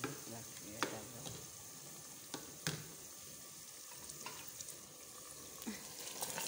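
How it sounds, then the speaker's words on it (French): Boiled meat added to hot oil fries with a soft steady sizzle, scraped and stirred with a spoon in a few distinct knocks, fairly quiet and close. "je vais rajouter la viande que j'ai fait bouillir dans l'huile"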